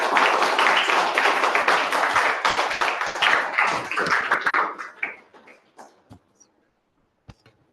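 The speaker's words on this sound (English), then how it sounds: "Let's give him a big applause." An audience at a Toastmasters meeting applauding an evaluator being called up, a burst of dense clapping that thins to scattered claps and dies out, with a last few isolated taps.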